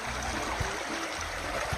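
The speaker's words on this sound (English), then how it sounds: "Really nice stream now, all by just like a separate stream from Coker out here." Water of a small mountain creek, the old part of Coker Creek, runs in a steady, continuous wash from nearby, with no voices.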